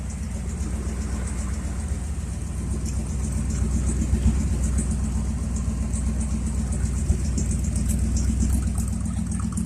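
A 1978 Chevy C10 Stepside pickup with a worn 307 V8 runs after a cold start, a steady low rumbling idle that holds even and fairly loud throughout, with no voices over it.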